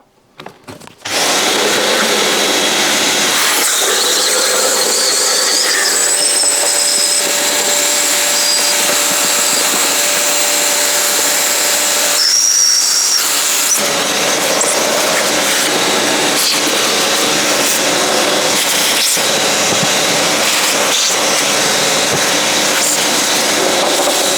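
A loud vacuum cleaner roars steadily for over twenty seconds while cleaning fluff from a Beko condenser tumble dryer, its pitch shifting briefly as debris is sucked through the nozzle.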